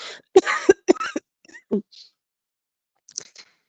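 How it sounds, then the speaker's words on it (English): A few sharp, harsh coughs in a quick cluster near the start, followed by quieter throat sounds and a faint cough later on. "here go this cough again."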